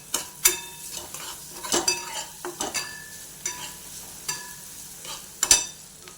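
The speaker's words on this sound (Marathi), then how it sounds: "आता याच्यात लसूण थोडं आलं ते चांगलं मिक्स करून घ्यायचं" Garlic and a little ginger stirred and fried in a pan for a peanut-and-onion chutney, with a spoon clinking and scraping against the pan in irregular strokes over a faint background sizzle, close and clear, no voices.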